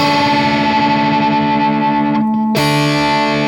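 Two open guitar strings ring together with heavy effects and echo, briefly cutting out before resuming.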